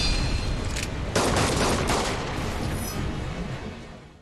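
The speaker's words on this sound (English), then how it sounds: "Jump back spear swipe with gunshot barrage." A gunshot barrage from the Isshin the Sword Saint boss fight in Sekiro: Shadows Die Twice: a dense, loud volley of overlapping shots and blasts that tails off gradually.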